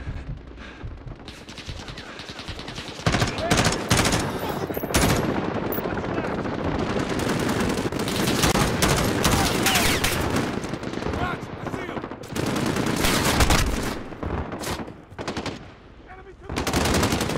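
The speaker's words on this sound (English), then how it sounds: "Where is that being shot from?" Sustained automatic gunfire from the shooter game Call of Duty: Modern Warfare, loud rapid bursts of machine-gun and rifle shots rattling almost continuously with brief pauses, the volleys dense and close.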